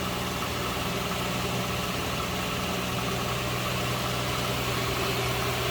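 A 1965 Ford Mustang convertible's inline six-cylinder engine idles smoothly and steadily at close range, a constant even hum with no revving.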